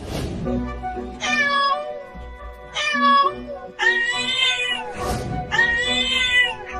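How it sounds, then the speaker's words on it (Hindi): Four loud, close cartoon cat meows in a row, each long and whining like crying, separated by short pauses, with soft music underneath. "अरे देखो, ये बिल्ली रो भी रही है।"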